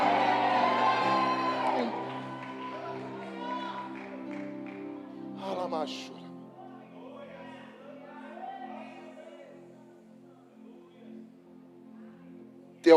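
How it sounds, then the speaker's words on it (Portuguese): A church youth congress congregation shouts and whoops in worship, loud at first and then tapering into scattered cries over sustained sound, with a sharp burst at the very end. "Levanta as suas 2 mãos e solta esse grito de glória da tua alma."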